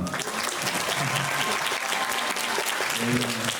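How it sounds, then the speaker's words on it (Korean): Theater audience at a film festival Q&A applauds an actor, a loud, sustained burst of many hands clapping from start to finish, with a voice briefly over it near the end. "한지혜 배우님께 박수 부탁드리겠습니다."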